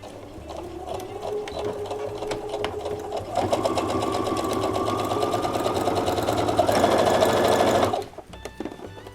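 A sewing machine stitches a fabric strip onto a dish towel in a steady, rapid mechanical whir that speeds up midway and then stops abruptly, close and alone.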